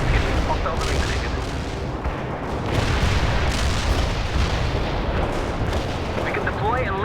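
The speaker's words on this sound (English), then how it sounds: "Artillery barrage" Heavy artillery barrage in the video game World in Conflict: continuous dense rumbling booms and blasts, loud and sustained throughout, with a voice speaking faintly over the bombardment.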